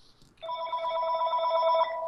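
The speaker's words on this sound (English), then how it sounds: "that's my phone" A mobile phone rings indoors with a steady electronic ringtone, bright tonal chime pulses starting abruptly after a brief quiet moment and continuing loudly and close by without interruption.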